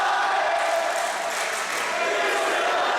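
A wrestling crowd at a PPW High Voltage show roars and cheers steadily as one sustained, fairly loud wash of voices, with no clear break.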